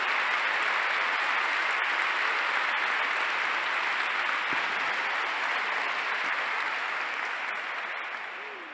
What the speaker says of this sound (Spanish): el calor de este aplauso os ha hecho superar la distancia